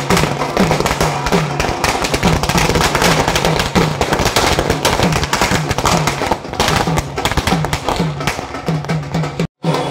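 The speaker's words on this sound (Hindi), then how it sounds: "उन्होंने आतिशबाजी कर अपनी खुशी जाहिर की।" BJP supporters set off fireworks and firecrackers to celebrate their new state party president, a loud, continuous barrage of rapid crackling pops and bangs lasting throughout, with a brief cut near the end.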